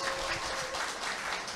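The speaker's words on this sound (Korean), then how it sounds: "큰 박수 감사드립니다." Brief burst of audience applause at a Sunday side-business seminar, a moderate, even patter of many hands from a seated crowd, continuous with no talk over it.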